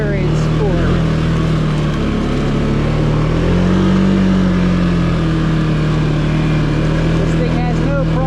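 A 2024 Can-Am Outlander Pro HD7 XU ATV engine pulls steadily on a trail ride, a loud continuous drone with rising and falling pitch as it picks up pace, with a person talking over it.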